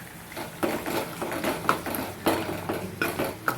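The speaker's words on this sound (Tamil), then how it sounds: "இஞ்சி பூண்டு பேஸ்ட்டு போட்டுட்டேன் பச்சை வாசனை போகிற வரைக்கும் நல்லா கிண்டி விடலாம்" Onions with ginger garlic paste stirred in a pan for vadacurry, a spoon or spatula scraping and clinking against the metal in irregular strokes, close and fairly loud, with no talking.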